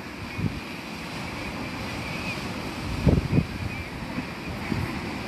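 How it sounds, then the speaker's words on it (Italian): Surf washing in steadily against rocks at Polignano a Mare, with a couple of heavier surges crashing near the middle, wind noise underneath, nearby and fairly loud. "È qui dove si infrangono le onde"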